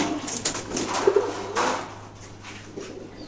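Pigeons coo softly in a loft, low throaty calls repeating close by over faint background rustle and a steady hum.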